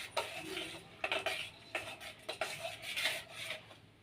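A spoon clinks and scrapes against a bowl while spiced mango masala is stirred into aam panna, sharp irregular taps and scrapes in quick succession, close and clear with no talking.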